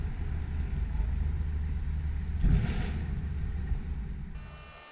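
A Vario Star motorhome, still unfinished, is towed back into the production hall by another vehicle, with a steady mid-pitched engine rumble and idling drone running throughout, swelling briefly in the middle and easing off near the end.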